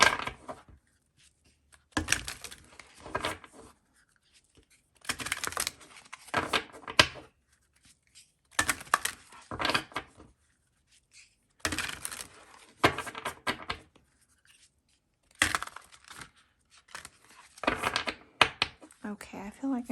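Repeated bursts of card shuffling, riffling and rustling in short clusters separated by quiet pauses, close and crisp, as a tarot deck is shuffled.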